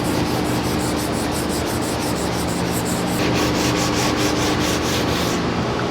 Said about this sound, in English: So we'll either keep sanding, but if we're sanding too much, we'll have to add filler